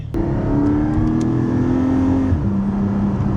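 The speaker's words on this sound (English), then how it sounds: "you guys can now tell a notable difference in the exhaust tune as we've pressed the magic button" A Porsche GT4 engine idles and revs with a loud, throaty exhaust, valves open, pitch rising and settling in a steady drone up close.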